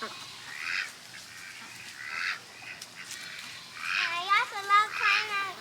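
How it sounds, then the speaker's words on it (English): Ducks at a backyard duck pond quack and call in a run of rapid, close nasal notes that rise toward the end, after softer background sounds and some talking. "Oh, I still see there are a few in the duck pond still too."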